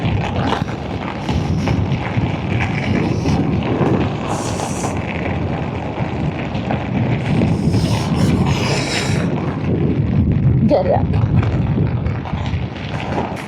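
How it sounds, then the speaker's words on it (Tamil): Loud, constant wind roars and buffets the microphone, a dense rumbling rush that never lets up, with faint sounds of people and water underneath. "காற்று தள்ளுது"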